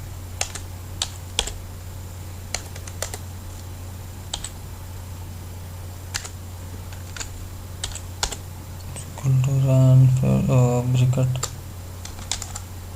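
Computer keyboard typing in MS Word, scattered sharp clicks at an uneven pace, close and fairly faint, with a short burst of speech near the end.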